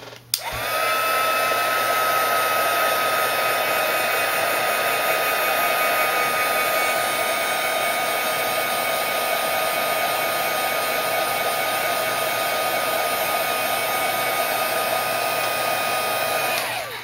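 A heat tool runs continuously to dry and set glimmer mist on a paper craft flower, a steady loud blowing whir that starts abruptly and holds for the whole stretch with no talking.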